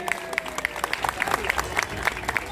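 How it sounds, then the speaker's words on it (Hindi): An audience at a political speech gathering claps rhythmically in unison, sharp repeated beats at a steady pace, loud and close, with a voice briefly heard alongside. "एक जोरदार ताली होनी चाहिए।"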